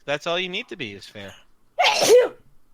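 A single close sneeze bursts out right after a stretch of conversational speech among tabletop roleplaying game players.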